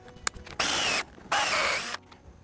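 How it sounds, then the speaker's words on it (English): A power drill drives screws into wood for a DIY garden potting shed build: two loud sustained whirring bursts of about half a second each, separated by a short pause, with faint handling clicks before them and no talk. "now I'm going to add two more screws between the center and the end on each side here"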